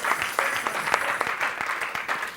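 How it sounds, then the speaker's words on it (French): An audience at a church worship service claps their hands, a brisk, irregular burst of applause from many people that carries on steadily throughout. "Clap your hand for her."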